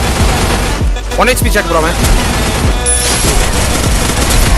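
Free Fire mobile battle royale gunfire with AWM and VSK94 rifles: loud, rapid bursts of shots crackle close up, overlapping into a near-continuous volley while a player talks over it.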